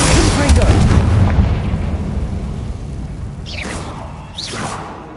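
The Confringo blasting spell explodes in the video game Hogwarts Legacy, one loud, booming burst that rolls away into a long rumble, followed by whooshing spell effects.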